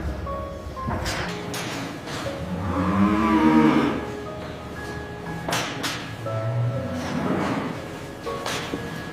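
Wagyu cattle at an approved facility low with a few drawn-out moos, the loudest near the start and another later, over steady farm background noise.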